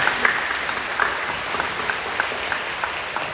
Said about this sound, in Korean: 우리 박수로 격려해 주십시오.